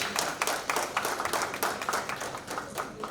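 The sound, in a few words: applause for the band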